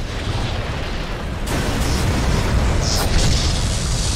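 Explosion in the video game Black Mesa: a deep, loud boom that swells over a continuous roaring rumble and stays dense and sustained throughout.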